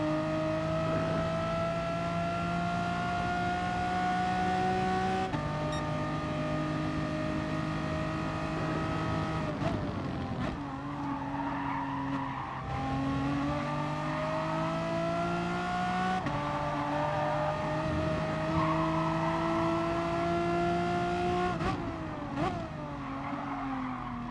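A Megane Trophy race car in Gran Turismo Sport on the Lago Maggiore East Reverse track, its engine droning loud and steady through held revs with upshifts and downshifts, gear changes marking the bursts, with no talk.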